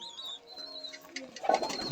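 Pigeons in a loft of high-flying birds give soft throaty coos and small chirps close by, quiet at first and rising into a short, fuller burst of calls.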